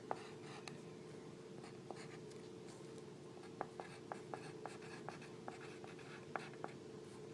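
Pencil writing on paper, a sequence of light scratchy strokes and small taps at an irregular pace, close and quiet, with no voices.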